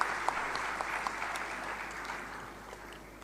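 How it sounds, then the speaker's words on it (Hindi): An audience at an institute's foundation day ceremony in Lucknow breaks into sustained applause, a steady wash of many hands clapping that fades slightly over a few seconds, heard from a distance in a large hall. "कृपया तालियों की करतल ध्वनि से इस पल को अविस्मरणीय बना दें।"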